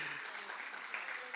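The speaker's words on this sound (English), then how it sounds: "Do I get a round of applause for that?" Audience applause at a business association's annual general meeting, a brief, steady wash of clapping from a seated crowd, fairly faint and even throughout with no speech over it.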